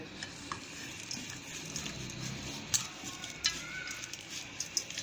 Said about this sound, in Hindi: अब हम इसको अच्छे तरीके से मिक्स कर लेंगे।